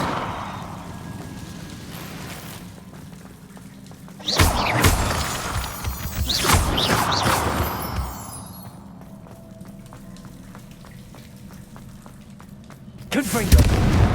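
Confringo spell blasts from Hogwarts Legacy ring out as loud bursts, one around the middle running several seconds with crackling echoes and another near the end, over a low steady game ambience.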